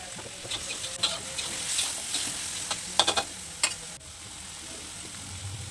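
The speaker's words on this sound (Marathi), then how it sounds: "तीन चमच तेल टाकून घेतला मग टमॅटो टाकून घेतला" Tomatoes fry in about three spoons of oil in a pan, a soft, faint sizzle with scattered sharp crackles and a few brief stirring scrapes, no voice over it.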